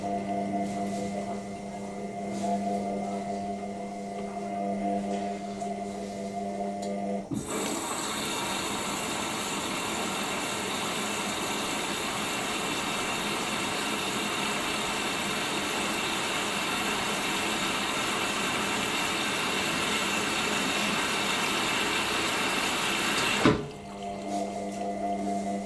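An Indesit IWC6125 washing machine on a 90°C cotton cycle draws water in a steady, loud rushing hiss. The hiss starts suddenly and stops suddenly, with quieter machine hum before and after it.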